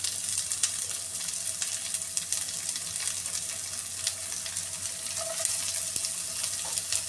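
Chopped onion dropped into hot oil with browned garlic while cooking restaurant-style noodles, giving a steady close sizzle and crackle throughout with no voices.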